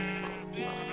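A Minecraft sheep gives one steady, nasal bleat, close and alone for about a second.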